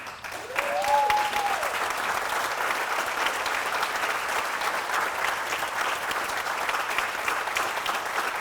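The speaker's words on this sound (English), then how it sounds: "if I could have you stand and applaud our 2021 Youth of the Year, Ava Samanek." A crowd at a youth center scholarship night claps in sustained, dense applause that starts abruptly and holds steady, with a brief whoop near the start.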